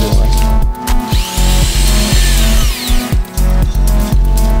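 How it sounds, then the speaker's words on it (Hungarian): A power drill with a 3.5 mm bit runs loud and close in repeated short bursts, starting and stopping about every half second, while cave expedition gear is prepared in a research station garden in Budapest. "Na, fúrhatjuk."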